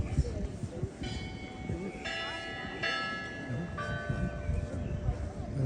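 Church bells ring at the Lourdes sanctuary in France, several clear tolls sounding in sequence over a wide outdoor space, with crowd noise and a voice speaking beneath them.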